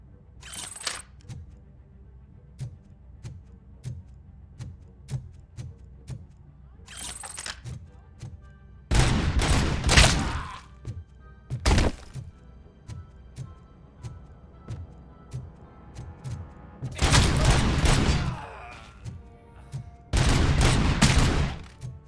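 Gunfire in the video game RoboCop: Rogue City, heavy-recoil weapon: loud repeated bursts of automatic shots separated by quieter mechanical clicks and gaps, close and punchy, with no voice over it.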